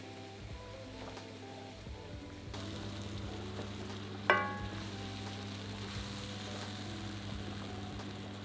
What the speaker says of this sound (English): add 2 tablespoons of white wine to the pan and let that bubble for a minute